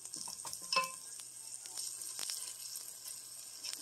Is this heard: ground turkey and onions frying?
yes